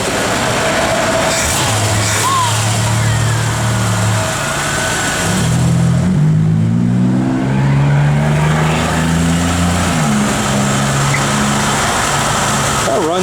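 A 1980 Chevrolet Corvette engine runs steadily up close, its droning hum rising and falling slightly as it revs, while people talk over it.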